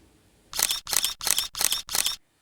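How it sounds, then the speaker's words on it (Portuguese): Five quick camera shutter clicks fire in an even burst, crisp and close, with quiet before and after. "É o som de uma máquina fotográfica ou de um celular tirando fotos."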